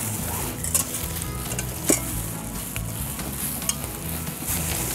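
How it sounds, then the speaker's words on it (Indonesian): Cooking oil heats in a wok for frying eel in a village kitchen in Cisontrol, giving a steady, close, loud sizzle throughout, broken by a few sharp clinks of a utensil against the pan. "Oh, kita panasin wajan dulu. Pakai minyak."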